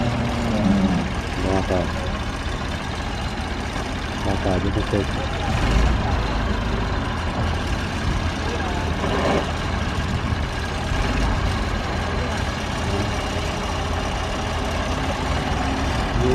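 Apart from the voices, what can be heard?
Massey Ferguson 290 tractor engine running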